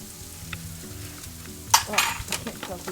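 Ground beef and a tablespoon of flour sizzle and fry in a pan for a beef stroganoff, with a steady frying hiss and sharp stirring scrapes and clanks that grow louder toward the end.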